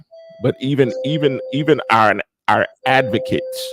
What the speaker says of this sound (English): Excuse that doorbell